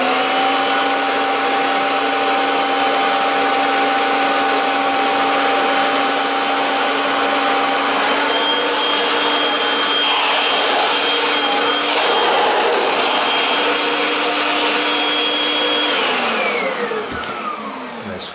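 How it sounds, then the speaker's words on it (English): A Kirby vacuum cleaner running steadily as it sucks the air out to deflate something, a loud continuous whine with sustained tones that shift slightly partway through, then winds down near the end. "we'll suck all the air out"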